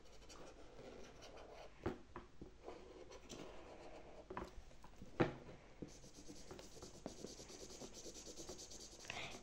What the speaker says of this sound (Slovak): Ja si tu nakreslím srdiečko.